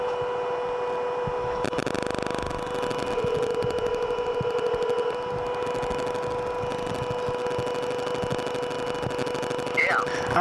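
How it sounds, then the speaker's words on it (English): Steady whirring hum of a cooling fan blowing through the vent on a Vespa GTS 300 Touring Edition scooter, continuous and moderate, with a faint tonal whine, a click near the start and a voice talking over it. "It's a fan blowing through the vent."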